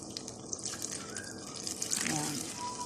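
A small amount of water poured into a pan of chicken while cooking a creamy chicken dish, a brief faint splash and trickle under a person talking.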